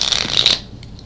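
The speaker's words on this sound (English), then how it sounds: "I'm just shuffling my clarifier cards here as I look at this." A deck of clarifier cards being shuffled by hand: a brief, close rustling riffle of card stock that fades quickly, with no talking.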